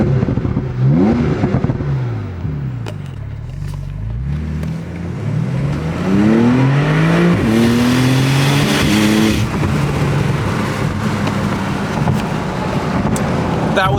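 A 2017 Porsche 911 Cabriolet 4S with PDK gearbox accelerating hard, loud engine revs climbing through several quick gear changes, with rushing wind noise of an open convertible.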